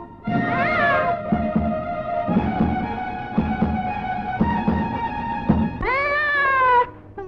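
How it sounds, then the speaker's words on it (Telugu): A cat meows repeatedly, long rising and falling cries with a shorter call near the start and a drawn-out one near the end, loud and close, with faint clatter between calls and no talking. "ఈ పిల్లి కూడా పాపను వెతుక్కుంటూ వచ్చింది."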